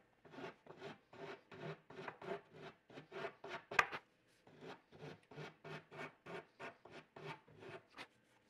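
Rhythmic back-and-forth scraping of a block sander rubbing along edge banding, about two strokes per second, close and steady with one sharp knock midway.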